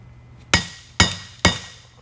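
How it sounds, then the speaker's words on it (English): Three sharp metallic hammer blows strike a manual hammer impact screwdriver while loosening screws on an Eaton Carter ground fueling hydrant valve, evenly spaced about half a second apart, close and loud with ringing decay. "This is called a hammer impact."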